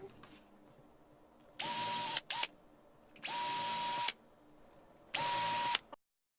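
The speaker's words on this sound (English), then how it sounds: "I drilled the holes in the breadboard, the pine board." A power drill bores holes in a pine breadboard in three separate bursts plus one brief blip, each loud and steady with a whine that climbs as the motor spins up, separated by near silence.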